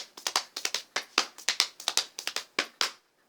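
Crisp rhythmic hand claps mixed with pats on the lap and sides, about a dozen close sharp hits in a steady galloping pattern, alone with no talk.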